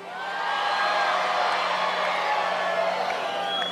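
A large crowd at a Donald Trump presidential campaign rally in Panama City, Florida roars continuously with cheers and whoops, a loud, sustained wall of voices that swells in and holds.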